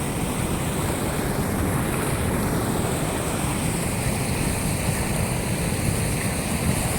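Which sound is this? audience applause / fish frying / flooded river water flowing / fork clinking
flooded river water flowing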